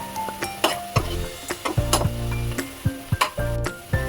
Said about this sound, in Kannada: ಈ ಥರ ಚೆನ್ನಾಗಿ ಫ್ರೈ ಮಾಡಿ ಸ್ವಲ್ಪ